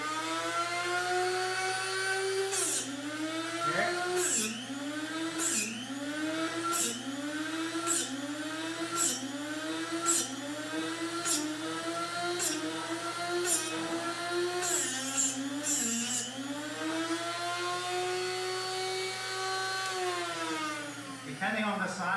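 A Drill Doctor sharpener grinds a drill bit with a loud, steady motorized whir. The pitch swoops down and recovers in a regular rhythm as the bit is rotated and pressed against the wheel again and again, with sharp clicks between passes.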